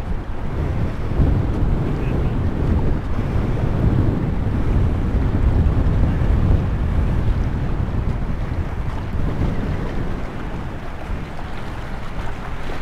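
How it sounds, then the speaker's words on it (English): Wind buffets a microphone fitted with a furry windscreen in heavy low rumbling gusts outdoors at the USS Cod WWII submarine in Cleveland, Ohio, continuous and loud, with no voices. "Very windy, so I don't know if this dead cat over my microphone's working"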